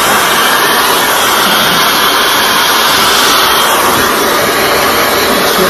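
A Kelopa high-speed hair dryer roars very close and loud, a constant jet-like rushing blast with a high whine, steady for the whole stretch with no talk.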